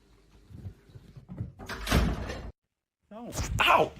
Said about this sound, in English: Kanji, do you mind closing the door for me?